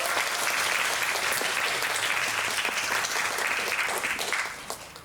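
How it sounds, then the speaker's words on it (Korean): A cinema audience at a film screening Q&A with the director and actors of Concrete Utopia, at CGV Yongsan, gives dense, sustained applause that holds steady for about four seconds, then quickly fades to a few scattered claps. "모두 환영의 큰 박수 부탁드립니다."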